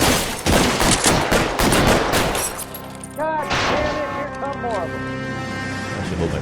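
Gunfire in the L.A. Noire video game, a quick flurry of loud shots at first that fades into ringing tones and background game sounds, with a voice talking.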